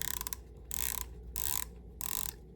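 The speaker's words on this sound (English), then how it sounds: "It sounds like a 120 click bezel" Rapid ratcheting clicks from a Blancpain x Swatch dive watch bezel being turned, coming in several short bursts of dense ticking separated by brief pauses, close up and quiet.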